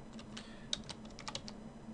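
Quiet, irregular keystrokes on a computer keyboard as a network router configuration command is typed, with clicks in short bursts and small pauses between them, close by and soft.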